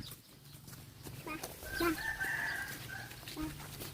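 A rooster crows once, drawn out and fairly close, with softer clucking and low background noise around it.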